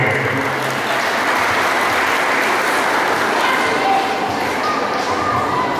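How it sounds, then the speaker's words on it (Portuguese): Crowd applause for a speaker at an evening Mother's Day celebration in Nova Iguaçu, dense sustained clapping from many people in a hall, loud and continuous throughout. "A salva de palmas ao Valcirei"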